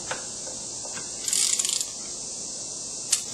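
A wrench works the nut on a Lexus LS 400 power steering pump pulley with a 27 millimeter socket, giving a quick burst of ratcheting clicks and metallic rattle against a steady background hiss, with no talking.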